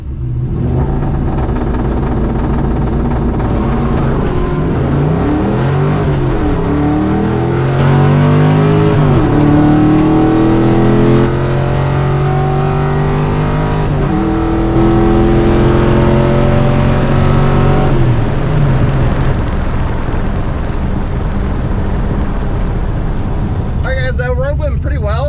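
An '82 Mustang GT with a Performer RPM intake launches hard down a drag strip, the engine roaring loud and rising through repeated high revs and gear shifts before easing off near the end.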